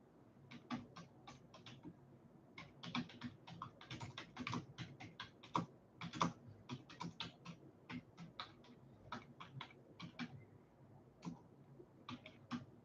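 Rapid, uneven keystrokes on a computer keyboard, clicking in quick bursts with short pauses, close and fairly quiet, with no talking.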